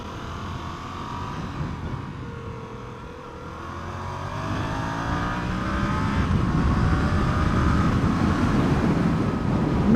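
A Yamaha XSR700 motorcycle with a small engine accelerates hard, its engine note climbing and building in loudness over about ten seconds, with steady wind rush over the microphone.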